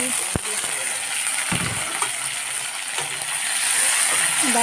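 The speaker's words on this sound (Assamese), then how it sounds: "তাৰপৰা এতিয়া মই ধুনীয়াকৈ কাটি থোৱা বিলাহীখিনি দি দিছোঁ।" Steady hiss of chopped tomatoes sizzling in a hot pan, with occasional clinks of a utensil stirring; continuous and close.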